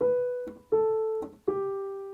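Piano notes played with normal articulation, three separate sustained notes with short gaps between them, each starting with a clear strike and decaying, close and alone.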